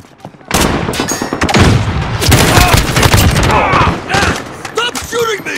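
Bursts of rapid gunfire in the multiplayer shooter Call of Duty: Modern Warfare, loud and close, with automatic fire running almost continuously through a short firefight and brief gaps between volleys.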